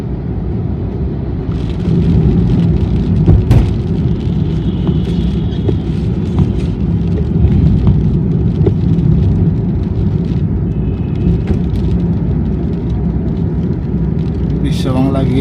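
A car on an evening drive through Kolkata's Sector 5 area near Biswa Bangla Gate, its steady low road and engine rumble running throughout, with faint traffic sounds on top and a brief sharper noise near the end.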